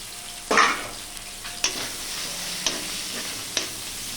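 Coriander leaves frying in a pan with chili powder, turmeric and salt: a close, steady sizzle with a loud burst as the ingredients go in, then a few sharp stirring scrapes and clicks.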